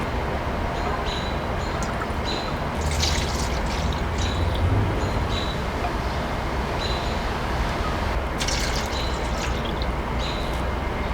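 Water pours steadily into a cup of lemon juice for homemade thyme-infused lemonade, a continuous splashing stream with brief brighter gurgles, heard close and alone.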